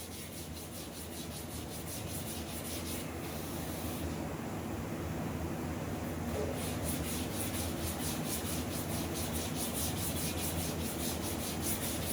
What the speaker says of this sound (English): I'm not going to bore you guys with all the sanding